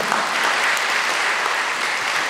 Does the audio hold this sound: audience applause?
yes